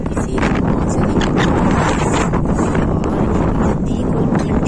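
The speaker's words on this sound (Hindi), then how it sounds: "बाहर इतनी इतनी इतनी ठंडी हवा है कि मैं बता नहीं सकती" Cold wind blowing outdoors near a mall, a loud steady roar of gusts buffeting the microphone without letup.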